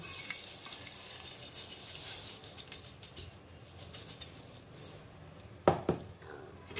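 Sugar is stirred into hot milk in a pot, with soft, quiet scraping and swishing, then a sharper clink of the utensil near the end.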